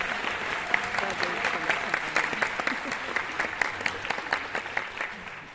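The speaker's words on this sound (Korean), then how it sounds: "큰 박수 한번" Audience applause at the closing ceremony of the Korea Dance Festival 2023 in Seongsan, a hall crowd clapping with distinct individual claps, steady and moderately loud for several seconds.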